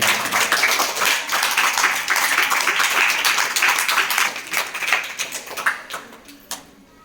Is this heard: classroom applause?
yes